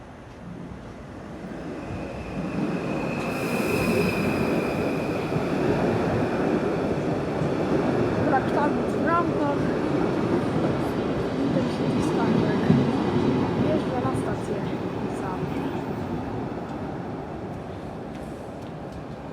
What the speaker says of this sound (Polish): I wjeżdża pociąg Intercity Skarbek.